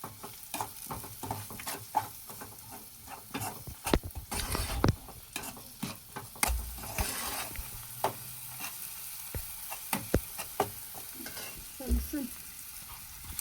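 Chilli powder stirred into a pan while making patra dhokla, a steady sizzle with repeated sharp spoon scrapes and taps at close range.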